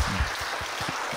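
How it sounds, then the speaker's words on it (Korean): Brief celebratory applause from a church congregation during a Sunday worship service, a soft wash of many hands clapping at a moderate distance, with no voices. "우리 박수로 우리 축하의 박수를 함께 해주시면"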